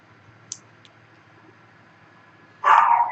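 Dogs in a home give a sudden, loud bark that carries on to the end after a near-silent stretch broken only by a few faint clicks.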